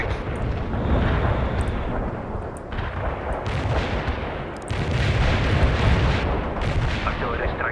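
Artillery strike explosions rumble through a World in Conflict battle, a dense, continuous barrage of heavy booms and blasts that swells again near the end, loud and close.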